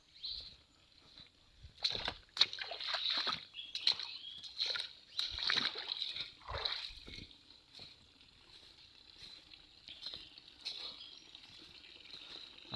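Water splashing and dripping as it is collected in a taro leaf outdoors, a series of irregular close splashes and trickles over a steady high insect or bird hum.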